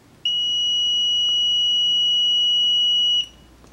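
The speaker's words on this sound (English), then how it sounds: "So between any two of the three, we got continuity with an audible sound." A multimeter gives one steady, high continuity beep lasting about three seconds while the windings of a three-phase motor are tested, clear against a quiet background.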